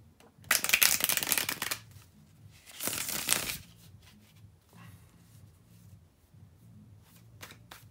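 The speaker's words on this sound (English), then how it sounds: "to shuffle the tarot cards" Tarot cards are shuffled close up in two brisk, crisp bursts, with quiet rustling and handling between them.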